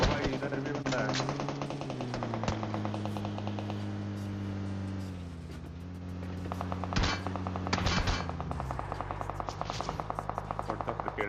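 Rapid automatic gunfire from PUBG Mobile rattles in dense bursts almost throughout, loud and close, while a steady vehicle drone hums beneath and a player talks over it.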